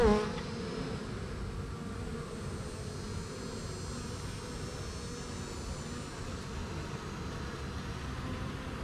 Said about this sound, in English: And so as Ange lifts those bees up, I'm trying to keep my eyes peeled underneath